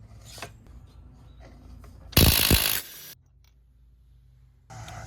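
A ratchet works an axle nut on a car wheel during a control arm job. There is a loud, rapid burst of clicking and rubbing lasting under a second, with quieter handling noises before and after.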